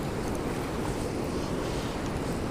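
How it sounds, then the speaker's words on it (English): Rushing water from a roughly 20-foot waterfall roars steadily and close by while fly fishing for brown trout and salmon, a broad continuous wash with no voices. "I am fishing right on the edge of a waterfall."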